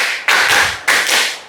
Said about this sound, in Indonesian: Dua kali tepuk empat.